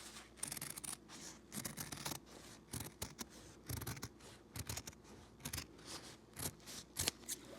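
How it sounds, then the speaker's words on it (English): Scissors make rapid, rhythmic snips as they trim a thin sliver off the edge of paper for a quilting project. The cuts are close and crisp, repeating steadily in short bursts with no talking. "I'm just going to cut just a sliver off the edge of the paper"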